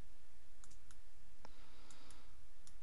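Computer mouse clicks made while modeling in Maya: a handful of sharp, isolated clicks at irregular intervals over a quiet background hum, close and fairly faint.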